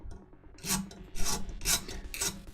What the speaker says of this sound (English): I know for some people filing like this is a bit like rubbing fingernails down a blackboard